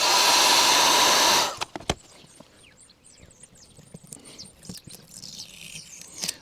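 A heat gun blows hot air at full power for about a second and a half to warm window tint glue on a Volvo XC90 rear window, then cuts off, leaving faint clicks and scraping.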